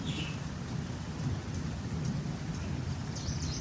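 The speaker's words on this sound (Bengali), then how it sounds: "অসম্ভব সুন্দর একটা বৃষ্টি মুখর দিন" Steady heavy rain falls through a dense, even wash, while low thunder rumbles continuously beneath it on a stormy day.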